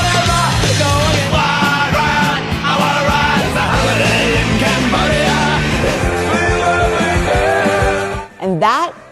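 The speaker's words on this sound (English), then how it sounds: "And that is the sound of punk." Punk rock music with dense loud guitars and shouted vocals running throughout, ending in a brief rising wail near the close.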